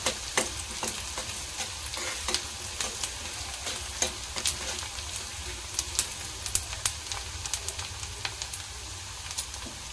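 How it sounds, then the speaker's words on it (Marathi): Chopped onion softening in hot oil for a cabbage sabzi makes a constant crackling sizzle. Frequent quick taps and scrapes from stirring keep breaking through it, and no voices are heard. "कांदा लय लालसर करायचा नाही, फक्त नरम करायचा आहे आपल्याला तेलात"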